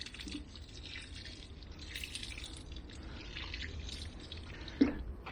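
Water trickles and drips close by from freshly watered garden plants, soft irregular patters with a slightly louder drop near the end.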